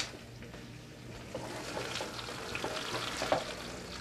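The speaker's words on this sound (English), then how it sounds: "We're going to put these in the frying" Spiedini frying in a hot pan with olive oil and garlic make a steady, close sizzle with soft crackles and spits throughout, fairly quiet and with no talk.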